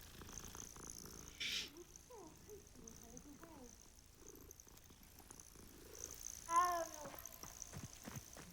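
A cat in the Hogwarts Legacy video game purrs softly under quiet game ambience, with a brief louder cat call rising near the end.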